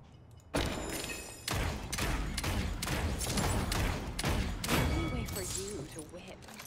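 Rifle gunfire in the Paladins video game from the champion Lian arrives in quick repeated bursts separated by brief gaps, loud and close throughout.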